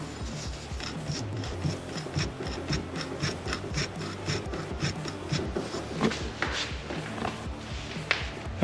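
A worn suspension joint behind the knuckle of a CFMoto ZForce 800EX creaks and grinds as it moves, a close rhythmic raspy rubbing repeating steadily with a few louder knocks near the end.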